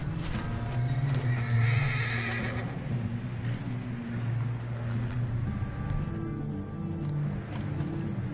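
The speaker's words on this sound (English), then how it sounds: "My horse." A horse in Red Dead Redemption 2 neighs loudly and close, followed by steady hooves clip-clopping, with rain and background game ambience beneath.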